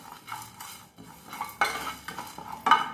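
Fennel seeds and cloves fry in a pan while a spoon scrapes and taps against the metal in quick bursts, the light sizzle underneath nearly buried by the close clinking.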